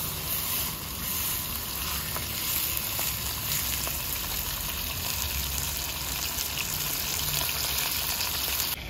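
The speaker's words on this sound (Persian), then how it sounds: "تاوه‌مون رو باید بذاریم خیلی داغ بشه و کمی از روغن کمی به اصطلاح سیر بشه" Oil sizzling in a very hot frying pan, a dense continuous crackling hiss that stays even and fairly quiet from start to finish with no talking.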